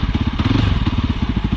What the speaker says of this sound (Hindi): You can hear it starts cutting of.